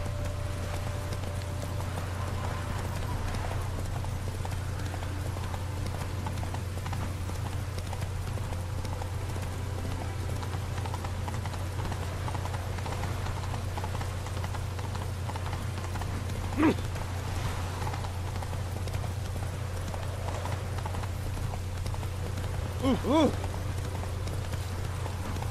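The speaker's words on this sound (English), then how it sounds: "Run, Roach" Horse hooves clip-clopping at a gallop in the Witcher 3 video game, a steady rhythmic beat under a constant low game-ambience hum, with a few brief sharper accents near the end.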